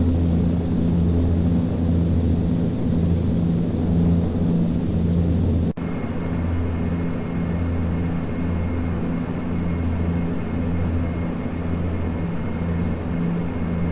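Steady drone of a Bombardier Q400 turboprop's engines in the Prepar3D flight simulator, a continuous loud hum with a brief dip partway through and no talk.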